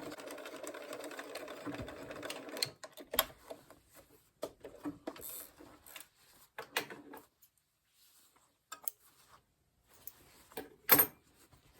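A sewing machine stitches a pocket onto a leather vest in intermittent runs of rapid mechanical whirring and clatter, separated by brief pauses and handling noises.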